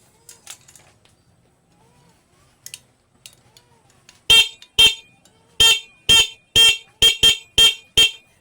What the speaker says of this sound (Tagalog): yan yung ating horn with passing light